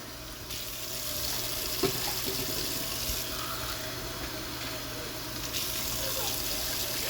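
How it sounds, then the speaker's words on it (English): Boiling water pours steadily into a container for two packs of loaded baked potato instant mashed potatoes, a continuous moderate gushing stream at close range with no talking. "Put 2 cups of boiling water."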